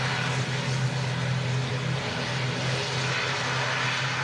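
A propeller aircraft at Manchester Airport gives a steady, fairly loud droning engine hum with a low tonal whine that holds throughout.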